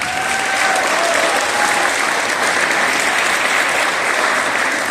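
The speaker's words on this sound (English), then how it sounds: "So a big round of applause to these 3 just for that." Loud, sustained applause fills a school gym at a volleyball senior night as three coaches are honoured, a dense steady wash of clapping from a large crowd with no break.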